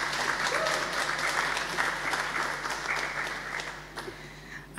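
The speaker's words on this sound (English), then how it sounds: "Let's have a round of applause for our final panelists." An audience at a lecture panel gives sustained applause, a dense, even wash of clapping that holds steady for several seconds before thinning out at the end.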